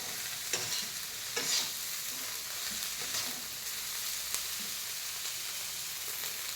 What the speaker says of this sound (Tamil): இந்த மாதிரி நல்லா வதக்கி எடுத்துக்கோங்க